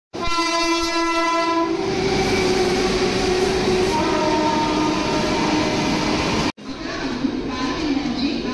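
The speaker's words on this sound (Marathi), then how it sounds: "आणि आता जी गाडी येणार होती 11-12ची, ती गाडी लेट झाली आहे," A Mumbai local train pulls into a station, opening with a loud, sustained horn blast, then a heavy rolling rumble and clatter of carriages that continues close by after a brief break.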